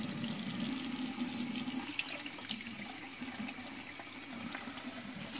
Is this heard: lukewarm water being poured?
yes